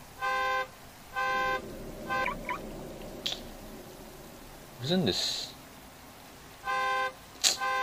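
Car alarm from a parked car in the Manhunt 2 video game, sounding in repeated harmonic blasts about half a second long with short gaps, loud and close, with brief speech and other game noises in between.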